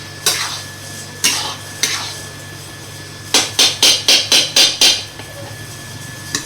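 A ladle scrapes and knocks through a semolina mixture in a pan, three spaced clacks and then a quick run of seven sharp metallic strokes over a low hum, with no voices.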